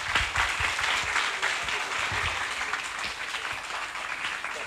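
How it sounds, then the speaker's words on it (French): Sustained audience applause at a children's arts event, dense and steady clapping from a crowd filling the whole stretch without a break. "demande d'ovationner très fort nos petits frères"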